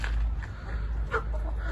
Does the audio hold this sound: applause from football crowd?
no